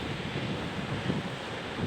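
Atlantic surf at Ponta da Ferraria in the Azores, where lava cavities force water up along the rocky shore: a steady, dense wash of waves under gusty wind buffeting the microphone, with no voices.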